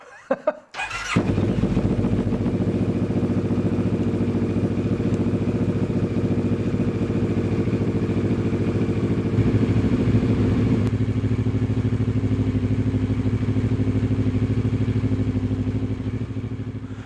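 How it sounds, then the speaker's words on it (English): A 2019 CF Moto WK650NK TT motorcycle fires up after a brief starter whine and settles into a steady, close, loud idle that holds evenly for the rest of the clip. "Let's start the bike."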